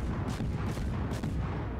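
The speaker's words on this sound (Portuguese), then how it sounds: "Nossa, muitos tiros." Dense, booming naval gunfire in World of Warships rumbles continuously, heavy low blasts overlapping with no pause, loud and close, with no voices.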